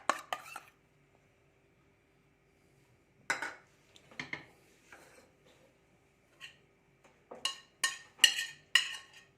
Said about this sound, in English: We mixed everything: onion, tomato, boiled potato, corn, and the paste.